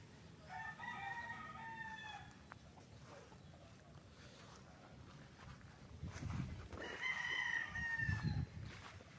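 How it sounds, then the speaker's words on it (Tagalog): Fighting roosters crow twice on a farm in Pagsanjan, Laguna, a stretched call early and another louder one later, with outdoor background noise and faint rumbling in between. "Daming manok oh."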